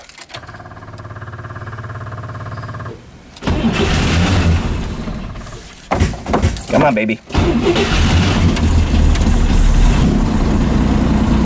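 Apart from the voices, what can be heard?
Corvair engine starting and running at fast idle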